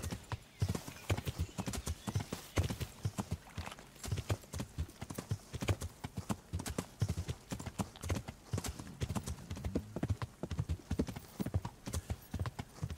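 Horse hooves clip-clop in a steady, quick ridden rhythm throughout, with a brief whinny, while a rider travels on horseback in the medieval video game Kingdom Come Deliverance.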